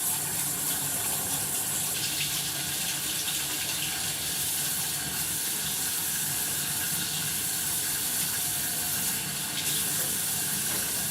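Steady running water pours from a tap over an ink-covered mesh screen used for printing, a continuous close hiss and splash with no talking.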